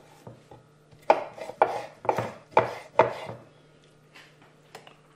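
A knife cuts a rinsed preserved lemon into large chunks on a board, giving five distinct close, crisp thunks in a steady rhythm, then a couple of fainter taps.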